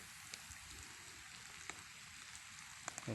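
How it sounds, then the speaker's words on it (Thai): Steady rain hisses softly on surfaces, with a few scattered drips landing nearby and no voices. "ตอนนี้ฝนก็ตกแล้วพี่น้อง"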